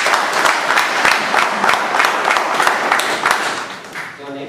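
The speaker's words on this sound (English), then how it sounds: "Give me a round of applause." An audience of Toastmasters and guests claps in steady, lively applause at an evening meeting, dense and continuous before tapering off at the end.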